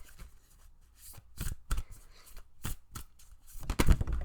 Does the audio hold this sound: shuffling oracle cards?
yes